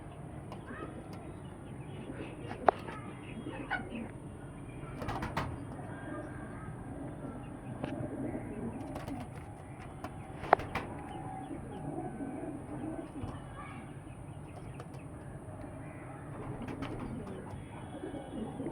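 Domestic pigeons, a ringed pair, coo softly in low, repeated murmurs that run throughout, with a couple of sharp clicks and faint background noise.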